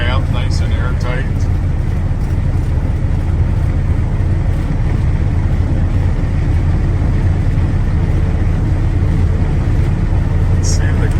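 A 1978 Ford F150 XLT pickup drives steadily, its engine and road noise forming a constant loud, dense rumble inside the airtight cab with no break throughout.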